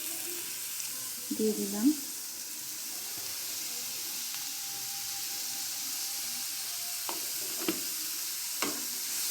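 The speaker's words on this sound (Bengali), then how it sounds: "তেলটা গরম হয়ে গেছে, তো আমি প্রথমে পেঁয়াজ কুচিটা দিয়ে দিচ্ছি।" Chopped onion dropped into hot oil for a veg roll, a brief burst of clatter, then a faint, steady background sizzle with a few soft knocks toward the end; a voice speaks briefly at the start.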